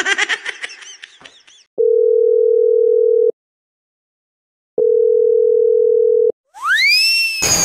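Two long, steady telephone ringback tones on the line, each lasting about a second and a half with a silent gap between them, loud and clean, after brief laughter and before a rising electronic chirp.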